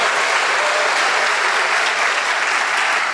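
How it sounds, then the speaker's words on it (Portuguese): A church congregation breaks into loud, dense, sustained applause, a steady wash of many hands clapping at once with no pauses. "Vamos dar uma salva de palmas para o nosso Pai."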